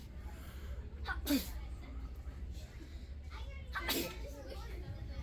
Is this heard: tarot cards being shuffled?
no